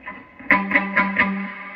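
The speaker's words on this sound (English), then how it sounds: "You're getting a little bit of focused kind of mid-range and top end from the overdrive pedal." Electric guitar strummed in a quick series of four distorted strokes, with a gritty overdriven tone and a reverberant tail ringing on.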